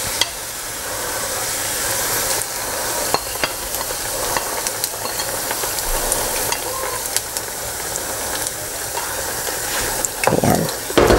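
Banana slices frying in hot oil in a pan, a steady close crackling sizzle running throughout with a few stirring clinks near the end.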